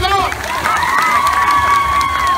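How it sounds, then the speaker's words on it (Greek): Crowd of adults and children at a treasure hunt event in Kalambaka cheering and clapping, a dense continuous roar with shouts and whistling-like tones rising over it throughout. "Για να ακούσω το πιο δυνατό σου χειροκρότημα."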